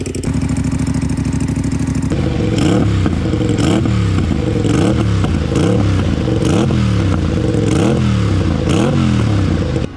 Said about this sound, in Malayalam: നല്ല ലൗഡായിട്ടുള്ളൊരു എക്സോസ്റ്റാണിത്.